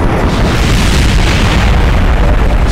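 Every rocket engine on a Kerbal Space Program contraption fires at once, a loud, continuous roaring rumble with a booming, explosive edge that holds steady throughout.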